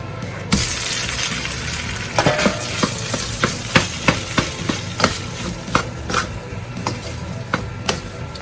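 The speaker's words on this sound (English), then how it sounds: "we're just gonna take this seasoned rice and we're just gonna toss it in this olive oil" Seasoned rice is tossed and stirred in olive oil in a pan, giving a steady loud sizzle with repeated scraping strikes of a utensil against the pan, and no voices.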